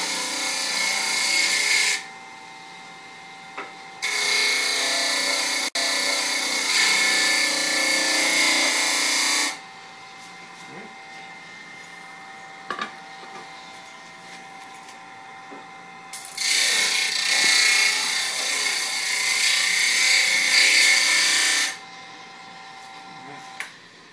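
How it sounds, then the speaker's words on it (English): A power sander sanding the wooden pieces of a two-piece spear whirs loudly in three sustained bursts, steady and close, separated by quieter gaps with faint handling noises. "we're just going to go ahead and sand these down real quick, just so they're nice and even"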